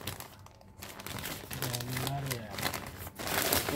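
Plastic packaging of baby clothes crinkles and rustles close by as it is pulled open, with a person talking over the handling.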